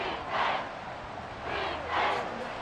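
Distant roar of a football stadium crowd at an NFL wildcard playoff game between the Miami Dolphins and Kansas City Chiefs, cheering in faint swelling waves that rise and fall over a few seconds.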